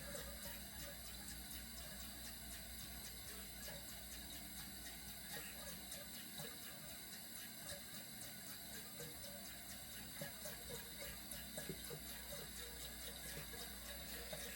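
Water runs continuously into the reservoir of a Dupray Neat steam cleaner, a faint, steady hiss with light mechanical ticking and no talking.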